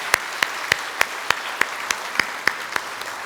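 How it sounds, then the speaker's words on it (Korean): A church congregation claps to welcome newcomers during a Sunday worship service, sounding as a few slow, evenly spaced claps, roughly three per second, fairly faint and sparse rather than a full ovation. "박수로 환영하도록 하겠습니다"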